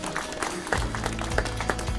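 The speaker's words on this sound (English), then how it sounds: "And a huge round of applause for Maruti Suzuki." Applause from the audience at a corporate awards ceremony in 2014, a short burst of scattered hand claps following a round of recognition, moderately loud with low room rumble beneath.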